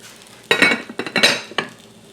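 Lid set onto a pan on the stove after chicken goes in: a few close metallic clanks and rattles over a low sizzle, in short bursts over about two seconds.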